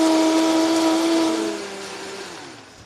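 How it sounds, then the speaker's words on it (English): A countertop blender whirs through a corn ice cream base mixture, a loud steady motor whine with tonal hum that holds and then winds down as the blades slow near the end. "we're going to transfer this mixture into a blender and blend it up"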